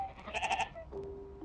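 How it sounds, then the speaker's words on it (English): Sheep bleating in the children's horror game Amanda the Adventurer: a quick run of four bleats close together, followed by a lone fainter cry, with nothing else heard. "Look at the nice sheep family."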